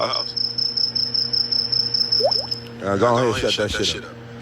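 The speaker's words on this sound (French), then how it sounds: "les criquets se servent de ce bruit pour attirer des meufs" A cricket's high, steady chirping trill runs through the first half. Someone then talks over it while the insect tone fades out.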